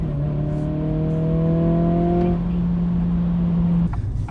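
A 2023 Acura Integra revs hard at launch in a 0-60 run, a strong steady engine drone with rising harmonics for about two seconds, then a sustained tone that cuts off near the end, loud and close with no talk.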